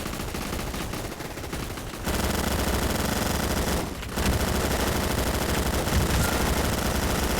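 Continuous automatic weapon fire in a shooter video game, dense rattling bursts running nearly the whole time with two short pauses, loud and up close.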